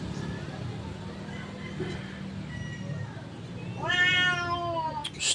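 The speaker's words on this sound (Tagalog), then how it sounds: "Maingay ka dyan pusa" A cat meows loudly and repeatedly near a repair bench where a stand fan is being fixed, its cries rising over a steady background hum; someone talks before the meowing.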